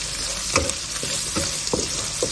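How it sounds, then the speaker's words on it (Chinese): Pork belly stir-fried in oil in a wok, with a steady sizzle broken by several short scraping clacks of the spatula at irregular intervals, close and moderately loud. "切下五花肉煸炒，炒出油脂后下葱姜蒜末"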